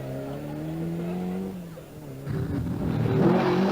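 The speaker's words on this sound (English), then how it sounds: "John Ricketts from Larne nearly buries the Mini" A Mini rally car on a special stage of the 1982 Circuit of Munster Rally: engine note held then dropping, a brief lull, then loud gravelly revving and tyre scrabble as it slides past, with faint commentary-like voice underneath.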